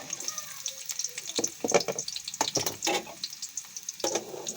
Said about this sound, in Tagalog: Paggisa lang tayo dito ngayon ng mantika. Saka bawang sibuyas.